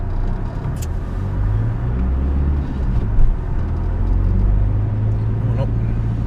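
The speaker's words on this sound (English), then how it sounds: "Oh no, it's a nice A.V. Dawson truck." Heavy haulage truck from A.V. Dawson, a Teesside haulage firm, rumbling past with a loud, steady low engine drone that swells slightly mid-way; a voice talks over it.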